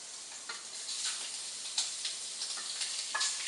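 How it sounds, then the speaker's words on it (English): Shrimp with curry sizzle steadily in a hot pan, a bright continuous hiss with small crackling pops and occasional stirring scrapes, close and unbroken by voices. "If you hear too much of a sizzle, you don't want to hear too much, just turn it down, medium-low."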